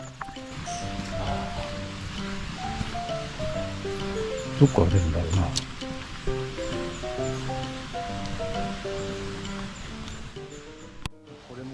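A steaming mountain stream fed by a waterfall runs near a hot spring along a Japanese national route. The water rushes steadily at moderate loudness under a man's brief remark, with soft background music.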